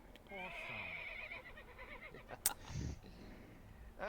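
A horse neigh sound effect plays during a tabletop role-playing game session: a single whinny rises and wavers near the start, followed by a sharp click and further scattered noises.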